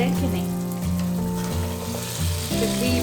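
Mixed vegetables for sabzi frying in a pan, a steady close sizzle with soft stirring scrapes throughout.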